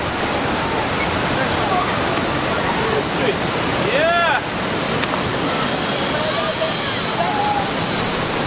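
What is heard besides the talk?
powerful waterfall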